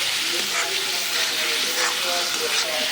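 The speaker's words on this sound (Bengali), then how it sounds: "ডিম দিয়ে মশলাটা ভালোভাবে কষাবো।" Eggs and spice masala fry in a pan, giving a loud, continuous sizzle with steady hiss and faint stirring scrapes, heard close up with no talking.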